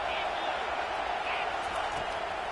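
A roaring football stadium crowd on third down, loud and continuous with a dense wash of cheering and noise across the whole stretch, no breaks or quiet moments.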